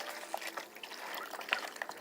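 Water pours into a teriyaki beef jerky marinade made with regular soy sauce, giving a faint, steady liquid trickle with a few small splashes and no voices.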